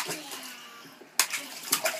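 A young child splashes water in a home bathtub, a sharp burst of sloshing then smaller splashes after a quieter stretch, close and moderately loud.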